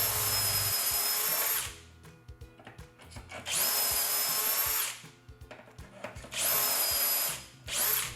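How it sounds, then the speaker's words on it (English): A power drill bores shelf pin holes in wood through a drilling jig, running in three long high-pitched bursts separated by quieter shuffling and clicks as the jig is repositioned. "and just keep right on drilling"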